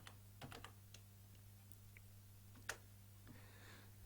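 Typing on a computer keyboard while entering a search, a sparse run of light, close key clicks at an irregular pace over a low steady hum.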